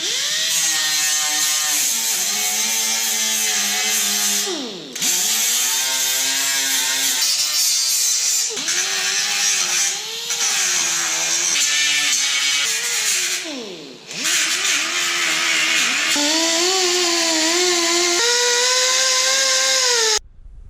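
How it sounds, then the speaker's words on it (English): Power sander with a worn sanding disc grinding on a Ford Bronco body, a loud, harsh whine that rises and falls in pitch with pressure, pausing briefly twice before running on. "May need to get a new sanding disc on this."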